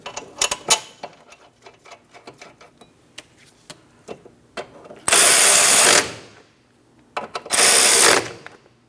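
Brake caliper bracket mounting bolts on a 2003-2007 Cadillac CTS front brake are started and snugged with a tool: scattered clicks and light taps, then two loud sustained bursts of power-tool whirring, each about a second long.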